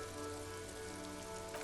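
Steady rain falls in Disco Elysium, pattering without a break across the city of Jamrock. The soft, even hiss stays constant throughout, with no voices over it.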